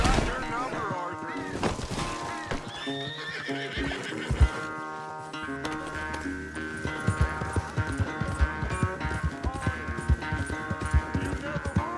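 Horse galloping in a race in the Red Dead Redemption 2 video game, rapid clip-clop hoofbeats and a whinny, with a voice speaking over the hooves and music.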